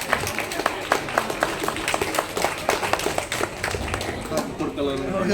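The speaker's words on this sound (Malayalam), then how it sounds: "നല്ല ക്ലാപ്പ് കൊടുക്കാം എല്ലാവരും." Steady rhythmic applause from an audience at an Onam celebration prize presentation, with many hands clapping together in a lively, even stream as people talk over it.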